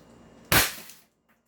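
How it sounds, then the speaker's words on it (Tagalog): A single sharp crack from a non-lethal rubber bullet pistol being fired, close and loud, with a brief decaying tail followed by quiet. "Ito po yung rubber bullet natin na non-lethal pistol. Firing po tayo."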